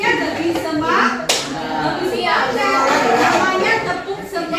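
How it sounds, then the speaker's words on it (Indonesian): Schoolchildren in a classroom clap together in a cheer rhythm, a steady burst of many small hands, with kids' voices chattering over it and one sharp loud clap standing out near the middle. "Namanya tepuk semangat."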